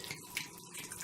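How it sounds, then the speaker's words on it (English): Cold water runs into churned butter to rinse out the buttermilk, a faint, close trickle and splash with small dripping accents, steady for a brief moment and without any talk. "the way you get rid of the buttermilk caught in here is to put cold water in it"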